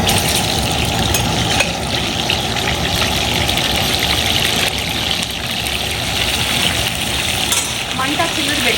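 Water is drained off soaked basmati rice in a kitchen, a loud continuous gushing and splashing rush that holds steady from start to finish.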